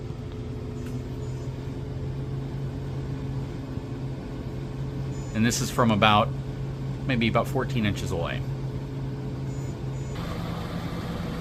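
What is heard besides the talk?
Turbro inverter RV air conditioner running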